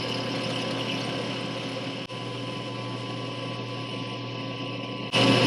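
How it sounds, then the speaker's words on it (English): Valve being lapped for a turbo LS engine in a 1979 Bronco build, spun near 2,000 RPM against WD-40-soaked sandpaper; a steady, close, continuous whirring grind with a constant hum, briefly dipping midway and swelling louder at the end. "A little WD-40 on my sandpaper, and then you just go over your edge of your valve."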